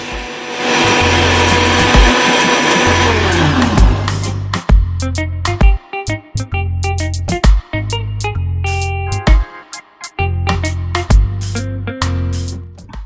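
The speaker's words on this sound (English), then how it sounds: "Now we're going to blend until it is all smooth, until the peanut butter is actually blended out." A blender runs loud and steady, blending a pumpkin and potato punch with peanut butter, its motor whirring continuously and then pulsing through repeated short bursts and stops toward the end.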